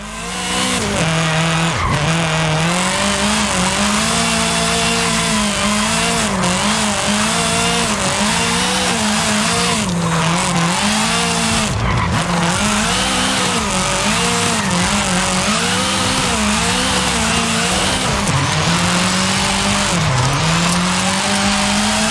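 A Polonez Trapez drifts in Forza Horizon 5, its low-powered engine droning steadily with wavering revs while tires squeal continuously through long slides, loud and close with no pauses.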